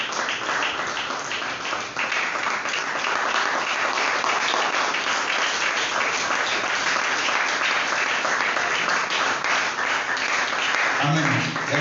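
A church congregation applauds and cheers the Lord with continuous loud clapping and shouts filling the room, sustained for the whole stretch.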